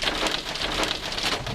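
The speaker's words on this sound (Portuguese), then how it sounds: "No Rio, também choveu forte no fim da tarde." Heavy rain mixed with hail falls in Rio in the late afternoon, a dense, loud, continuous patter with sharp drops striking hard surfaces.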